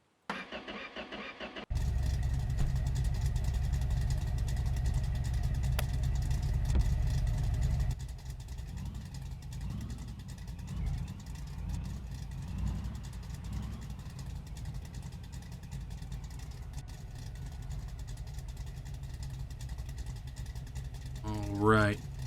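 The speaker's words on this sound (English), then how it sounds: "Back into the pickup truck." A pickup truck engine starts abruptly and then idles with a steady, loud low rumble. The tone shifts to a rougher, quieter idle partway through, and a short higher sound comes near the end.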